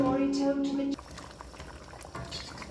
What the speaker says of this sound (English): The gravy is nice, but it needs to cook down a little bit more.